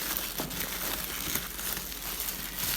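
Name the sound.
unboxing Corsair K68 mechanical keyboard packaging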